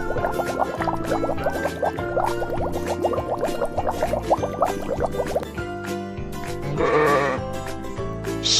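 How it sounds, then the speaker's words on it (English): A sheep bleats with a wavering, quavering call over steady, cheerful backing music, the clearest cry rising near the end. "a baby sheep is a lamb."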